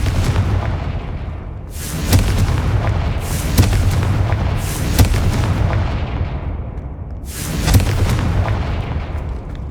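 Confringo fire spell explosions in Hogwarts Legacy, several loud booming blasts that each burst and roll off, landing about every one and a half to three seconds over a dense rumbling background.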